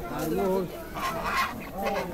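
Geese at a Bangladeshi produce and poultry market let out a few nasal, harsh honks in short bursts, close and fairly loud, with market noise in the background.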